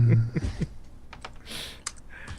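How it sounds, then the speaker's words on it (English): Someone types on a computer keyboard, producing a quick run of close, crisp key clicks in irregular bursts, with a low voice briefly heard at the start. "As I hear him typing and going"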